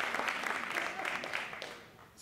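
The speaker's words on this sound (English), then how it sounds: "y'all don't have to clap, but I'm clapping it" Scattered hand clapping from guests at an iftar dinner, dense and fairly close, tapering off after a couple of seconds.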